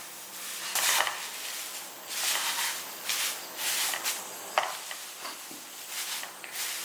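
Dry drumstick leaves being stirred and roasted in a hot pan give off soft crackling and scraping in several short bursts, fairly close and moderately quiet, with no talking.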